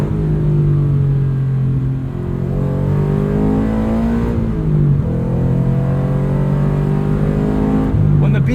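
The boxer engine of a Subaru BRZ with a 6-speed manual drones loudly from inside the car, pitch rising through the gears with brief dips at shifts, a steady strong rumble throughout.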